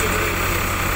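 A 2007 Farmtrac 60 tractor engine runs up close with a steady, dense mechanical hum that holds even throughout.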